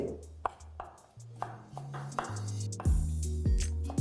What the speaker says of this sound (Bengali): তারপর এইভাবে জুলিয়ান করে কেটে ছোট ছোট করে ডাইস করে কেটে নিই।